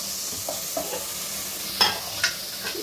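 Country chicken tossed into a hot pan for village-style curry, a constant soft sizzle with occasional stirring scrapes and clinks of a spoon.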